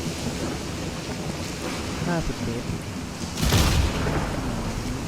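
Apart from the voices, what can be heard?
thunder and lightning storm in Stalker 2 video game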